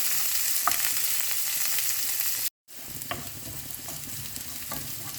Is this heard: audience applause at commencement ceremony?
no